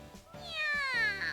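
A cat meows in The Fruit of Grisaia visual novel, one drawn-out rising cry heard close and fairly quiet, with a low background music bed underneath.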